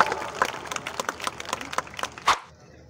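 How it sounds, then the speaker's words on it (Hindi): Audience applause welcoming a governor at a formal gathering, a short burst of scattered hand claps with a few louder cracks that fades and stops abruptly, no speech. "भरपूर तालियों में गवर्नर से कामरान खान किशोरी साहब।"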